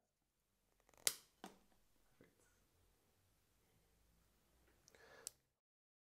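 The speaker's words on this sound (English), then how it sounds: "So I'm going to cut this one." Pruning shears snip a branch on a small shohin juniper bonsai, giving a few sharp, close clicks and cuts separated by quiet gaps, with faint rustling between them.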